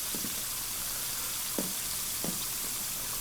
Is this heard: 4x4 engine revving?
no